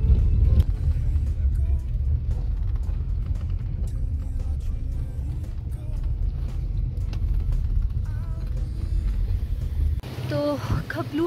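A car drives along the road into Khaplu, a steady low engine rumble and road noise continuing throughout at a fairly loud level, with some faint interior sounds near the end.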